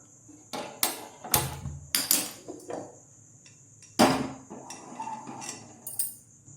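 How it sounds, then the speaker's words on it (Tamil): Metal cooking pot clanking and being set down on a kitchen stove, with a series of sharp knocks and clatters at close range, one louder bang near the middle, and quieter rattles after. "இப்போது ஸ்டவ் ஆன் பண்ணி பாத்திரம் வச்சுக்கலாம்."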